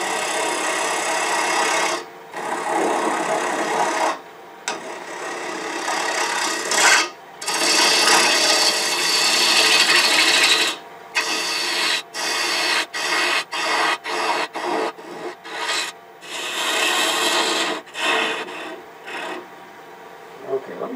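A lathe tool cuts a wooden wig stand in long rasping passes broken by short pauses, loud and near, with the strokes growing shorter and more frequent toward the end.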